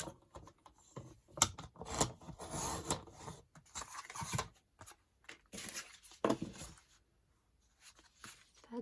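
Paper being cut for craft journal cards, with bursts of dry snipping and rustling broken by short pauses, close by and with no talking.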